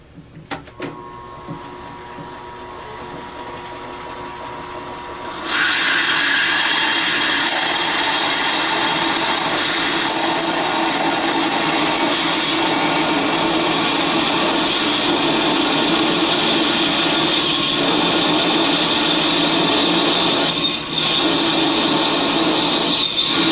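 A valve guide machine starts up on a 383 Mopar cylinder head fitted with bronze guide liners. After about five quiet seconds it breaks into a loud, steady whirring whine that holds close and continuous, with no talk.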